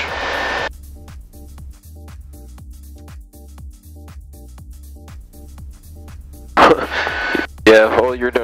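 A VL3 Evolution 915 light aircraft drones steadily on a short-field landing approach, its engine hum heard from inside the cabin under crackling radio chatter and cockpit talk.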